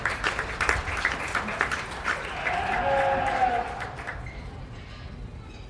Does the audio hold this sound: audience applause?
yes